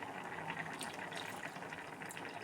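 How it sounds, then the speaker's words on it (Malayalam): Tamarind juice squeezed and poured into a simmering fish curry, giving a steady close trickle and splash of liquid throughout, with no talking. "പുളി പിഴിഞ്ഞൊഴിക്കട്ടെ ഗൈസ്"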